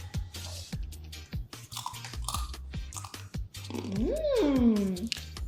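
Close, crisp crunching of someone chewing homemade taro chips, with sharp repeated bites, followed by a short murmured voice near the end.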